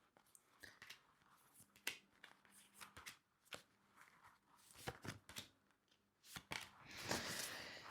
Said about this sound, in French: je tire mes 6 cartes pour le choix numéro 1